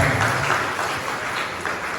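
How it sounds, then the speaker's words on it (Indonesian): Applause for a fellow student at a university gathering on the history of Maulid: steady, dense clapping from a crowd, fairly loud and continuous for the whole stretch, with faint voices underneath. "Tepuk tangan untuk teman kita."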